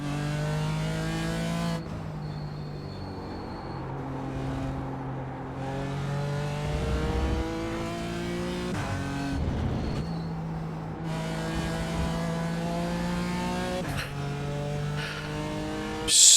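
A BMW M4 GT4 race car on the Laguna Seca circuit in iRacing revs up and down through repeated gear changes, its engine note climbing and dropping in steady cycles, loud and alone.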